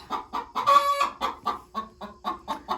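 Several chickens cluck close by in a steady, choppy rhythm, one louder squawk rising briefly among the repeated short clucks.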